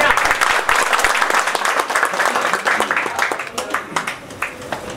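A crowd at a Bhojpuri film muhurat ceremony claps loudly in dense, sustained applause that thins out toward the end.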